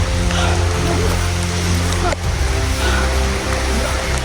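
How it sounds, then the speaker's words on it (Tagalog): Heavy rain pours down on a mountaintop in a loud, continuous roar, with a steady low rumble underneath and no clear voices. "Malakas na yung ulan."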